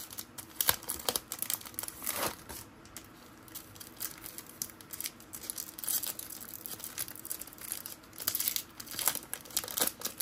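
Crinkling plastic wrapper of a 1990s NBA trading card pack being torn open up close, with irregular crackling bursts and rustles throughout and no talking.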